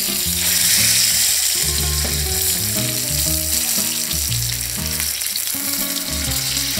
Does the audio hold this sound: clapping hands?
no